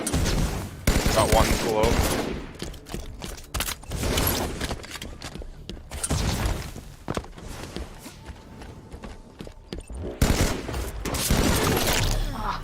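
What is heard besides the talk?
gunfire in the video game Halo 5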